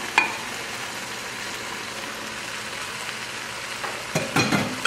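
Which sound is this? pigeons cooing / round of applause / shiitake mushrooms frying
shiitake mushrooms frying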